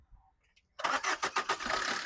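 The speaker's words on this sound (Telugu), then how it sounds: "సింగిల్ సెల్ఫ్లో బండి స్టార్ట్ అవుతుంది, ఎటువంటి స్టార్టింగ్ ట్రబుల్ అయితే లేదు సార్" A 2018 Maruti Suzuki Vitara Brezza VDI diesel starting on a single crank: quiet clicks, then a short burst of rhythmic cranking pulses as the engine catches and settles into a steady diesel idle, close and without talk.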